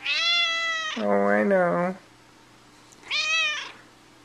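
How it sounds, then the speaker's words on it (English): A pet cat meows twice, long drawn-out mewing calls close by, with a person speaking in between the two cries. "What a lovely kitty."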